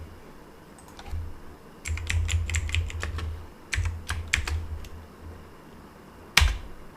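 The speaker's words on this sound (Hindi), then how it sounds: "बस टाइप करें" Computer keyboard typing in bursts of quick keystrokes, close and fairly quiet, with pauses between runs and a sharper final key press; no talking.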